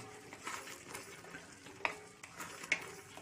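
Boiled green peas are stirred into tomato rice in a pot, a faint, close shuffling of the mixture with soft sizzling and two light clinks of a utensil.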